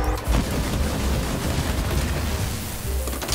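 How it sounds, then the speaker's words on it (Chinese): Explosive rounds from a weapon in Borderlands 3 fire in a rapid, continuous barrage of booming blasts, dense and loud without letup, with game effects layered over the shots. "那第二种呢是爆裂弹，就是一射出去就是会爆炸。"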